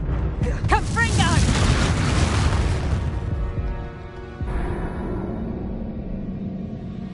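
A Confringo blasting spell goes off in the video game Hogwarts Legacy, a loud rumbling explosion with crackling bursts that fades over a few seconds before a second lower boom and steady rumble, with talking mixed in.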